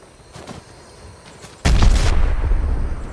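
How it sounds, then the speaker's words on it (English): A frag grenade detonates in a first-person shooter game, a sudden loud boom at mid-clip after quiet, fainter shots, rolling into a sustained heavy rumble and debris noise that fills the rest. "Tossing a frag!"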